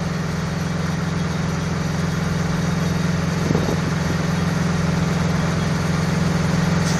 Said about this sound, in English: This is the snowblower that is used at Manitoulin for clearing all the snow off the roofs of the trailers.